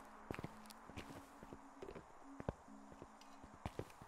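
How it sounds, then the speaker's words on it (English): A ghost's footsteps in the horror game Phasmophobia come as faint, uneven thuds, about a dozen soft steps scattered over a few seconds in a quiet room. "I can hear the footsteps"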